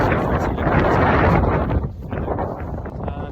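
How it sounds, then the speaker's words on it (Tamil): Strong wind gusts across a beach where sand is being blown along, a loud, roaring rush buffeting the microphone, easing slightly partway through, no speech. "மண் வந்து காற்றுக்கு இழுத்துட்டு ஓடுது, அந்த அளவுக்கு காற்று அடிக்குது."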